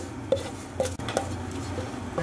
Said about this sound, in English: And we'll just mix all that through